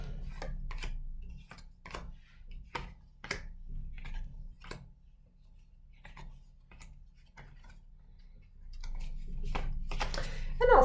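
Tarot cards are gathered and handled in a series of crisp, evenly spaced taps and clicks close by, ending in a louder rustling shuffle.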